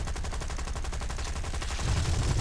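Aircraft cannon fire in the War Thunder flight game: a rapid, steady burst of automatic shots rattles continuously for a couple of seconds, fairly quiet in level, with no talk over it.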